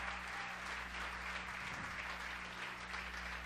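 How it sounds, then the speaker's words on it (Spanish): Sustained applause from a church conference audience, dense steady clapping that fills the room evenly for a few seconds without a break. "Denle un fuerte aplauso al Señor"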